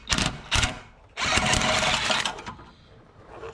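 A power tool, likely an impact gun, works on rusted exhaust studs of an abandoned 1980 Datsun 720: two short bursts, then a longer hammering run, close and fairly loud, with a faint trailing burst at the end.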